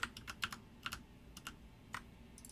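Code being typed on a computer keyboard, with quick irregular clusters of close, light key clicks alone in a quiet room.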